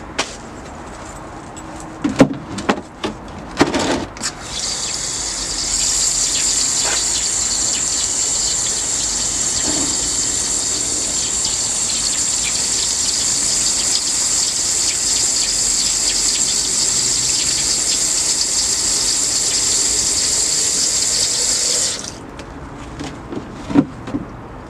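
Running water gushes steadily for about sixteen seconds, rinsing stainless steel pins in a wet tumbler. A few clunks and knocks of handling come before it starts and after it stops.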